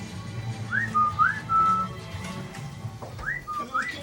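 Person whistling to a pet parrot, two short sets of rising, slurred whistle phrases, each ending in a held note, close to the microphone over a faint low room hum.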